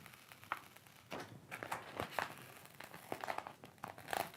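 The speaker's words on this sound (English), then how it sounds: "you're gonna very carefully peel up this corner" A vinyl skin is slowly peeled up at one corner of a MacBook, giving faint, close crinkling and soft tearing crackles in short irregular bursts.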